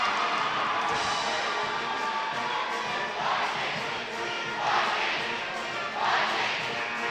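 A high school boys basketball crowd roars and chants in a gym as a longtime fan pumps them up, a dense continuous wall of voices swelling into louder cheering bursts.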